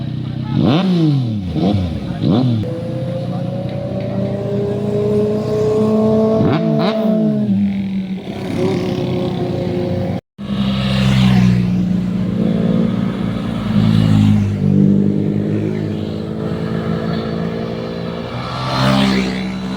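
A motorcycle engine revs repeatedly, pitch sweeping up and down, then roars loudly and steadily as it passes close by.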